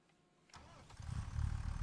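A tractor engine turns over and catches in a logging roleplay video game, starting from near silence and swelling into a loud, rumbling low roar that holds steady as it settles.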